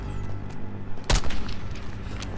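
Mortar fire in the Call of Duty Black Ops 6 campaign: a single heavy, close blast stands out around the midpoint, rising over a steady bed of game rumble and distant battle noise.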